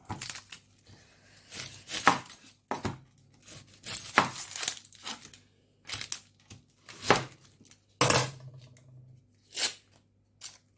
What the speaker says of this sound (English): Next, I'm gonna chop an onion.